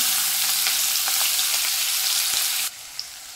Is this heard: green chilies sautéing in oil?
yes